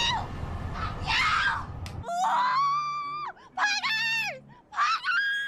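A person lets out loud, rising and falling screams and wails in several long bursts, sharp and high-pitched, alone after a brief stretch of noisy chatter at the start.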